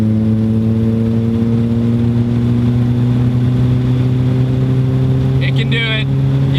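Nissan 200SX S12 engine running loud and steady with strong low harmonic tones, continuous throughout as the car drives, with a brief chirp near the end.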